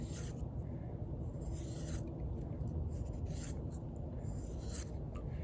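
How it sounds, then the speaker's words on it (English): A SITIVIEN ST-18 knife with an N690 steel blade shaves wood in quiet, raspy scraping strokes, close up and fairly soft, with several short bursts repeating over a few seconds. "let me try a different area of the wood. I'm shaving."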